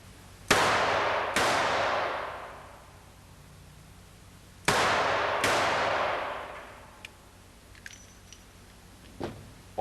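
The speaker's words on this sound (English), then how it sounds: "putting 1 round at a time in each target, in bursts of 2s" A handgun fires at targets in two pairs of sharp, loud, close shots, each crack followed by a long echoing reverberation. Faint clicks and small handling sounds come near the end.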